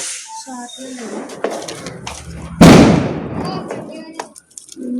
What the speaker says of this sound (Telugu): క్రాకర్స్